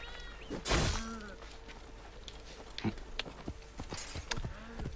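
Horse hooves clopping in the video game Assassin's Creed Origins, a scattered run of fairly faint hoofbeats amid game ambience, with a louder thump early on.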